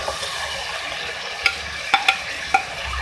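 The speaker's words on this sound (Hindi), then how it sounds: "अब मैं इसमें ऐड करूँगी फ्राई किए हुए आलू" Fried potatoes are stirred into cooked beef in a pot, a low steady frying hiss with a few sharp metallic clinks of the spoon striking the pan rim.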